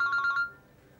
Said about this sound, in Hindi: फोन आ रहा है उनका।